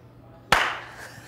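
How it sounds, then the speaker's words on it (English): A single sharp hand clap cracks out close and loud, then decays quickly into a quiet room tone. "the warning is a clap"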